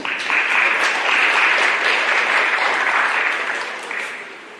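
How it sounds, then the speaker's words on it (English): A crowd at a Cherry Creek High School signing day gives a round of applause: dense, even clapping that swells quickly, holds for about four seconds, then starts to thin out. "let's give them a round of applause for you guys"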